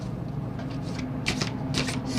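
Tarot cards being shuffled by hand, with crisp riffling bursts that grow stronger toward the end over a low steady background hum.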